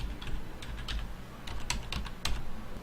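Password being typed on a computer keyboard: a quick run of close, crisp key clicks with uneven rhythm and a few sharper taps, over a low background hum.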